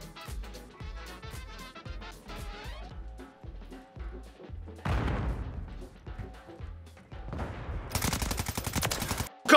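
Modern Warfare 3 gameplay gunfire: a string of punchy single shots gives way to dense automatic bursts that grow louder toward the end, with no talking over them.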